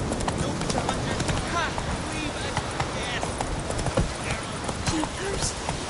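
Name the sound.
horse Roach galloping in the video game Witcher 3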